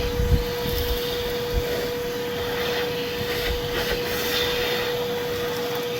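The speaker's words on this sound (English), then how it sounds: "take your vacuum and just suck all this excess dirt up" A vacuum sucks up excess dirt around the fuel pump ring during a Honda CR-V fuel pump replacement, giving a steady, close whining drone with a few brief crackles of debris.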